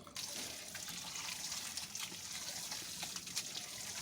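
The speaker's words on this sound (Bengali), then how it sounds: "এখন আমি ভালো করে পরিষ্কার করে একটু ধুয়ে নেব, তারপরে জল ঝরাতে দেব।" Tap water running steadily over freshly cut chicken pieces being washed in a kitchen sink, a constant close splashing gush with no pauses.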